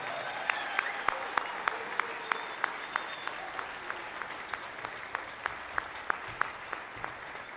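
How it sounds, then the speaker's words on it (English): Concert audience at a civic band and wind ensemble performance applauds the players, a steady mid-distance clapping crowd with a few sharper individual claps standing out rhythmically through the roomy hall. "can we give them one last big round of applause for all that they've done?"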